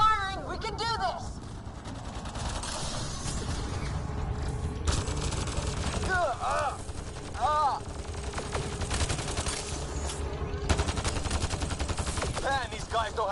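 Sustained automatic weapon fire in a Mass Effect battle, dense rattling bursts running throughout, with shouted voices breaking in between volleys.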